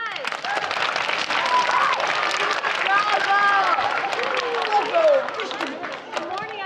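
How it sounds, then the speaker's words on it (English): A crowd of schoolchildren applauds a visiting recycling educator from ecomaine, steady close clapping filling the room with excited young voices and shouts mixed in throughout. "Let's give a big round of applause."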